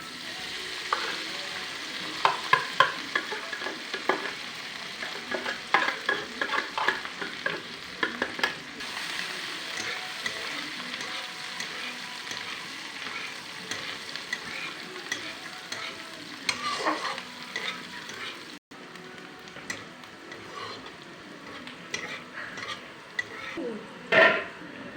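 Onions and green chilies frying in a pan for a potato fry, a moderate sizzle with frequent spoon stirs and clinks against the pan, close and continuous, briefly dropping quieter near the end.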